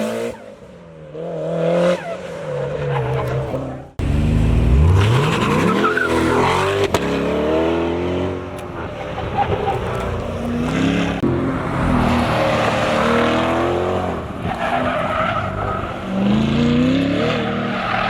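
A race car roars around a dirt track, engine revving hard and rising in pitch through repeated acceleration sweeps, loud and close with brief tire scrubbing.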